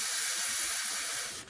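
An airbrush sprays paint through a small hole in paper, a close, steady hiss lasting just over a second before cutting off.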